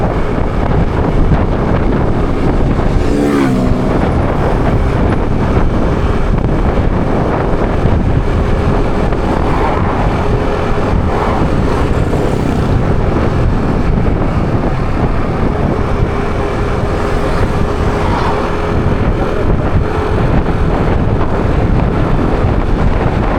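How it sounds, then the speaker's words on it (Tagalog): Steady, loud wind buffeting the microphone on a short motorcycle ride, a constant low rumble with gusts throughout and no voices. "Mahangin."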